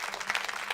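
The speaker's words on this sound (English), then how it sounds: "let me give myself a little clap, clap, clap" Brief spatter of hand clapping from a small group, a few quick overlapping claps over less than a second, fairly soft and close, with no talk over it.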